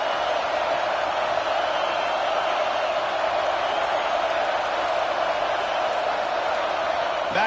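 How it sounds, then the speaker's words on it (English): A football stadium crowd roaring behind the defense before a big third down, a steady, dense wash of distant cheering that holds at an even level throughout. "Big third down as the crowd gets behind this defense."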